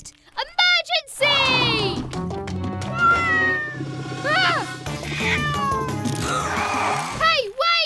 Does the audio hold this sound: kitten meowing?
yes